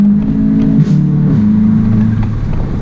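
A Volkswagen Golf GTI accelerating hard, its engine droning loud and steady from inside the cabin, pitch climbing and then stepping down through a gear change before rising again.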